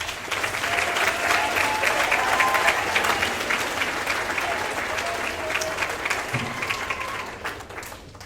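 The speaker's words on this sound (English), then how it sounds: "Let's give a round of applause for Sam back there." A school band concert audience applauds a performer, a dense, even wash of clapping from a full hall that holds steady and fades slightly at the end, with faint voices mixed in.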